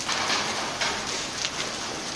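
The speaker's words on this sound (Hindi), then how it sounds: "देखिए ओले गिर रहे हैं।" Dense, steady patter of large hard hailstones pelting roads and surfaces, a continuous hiss with sharper clattering bursts throughout.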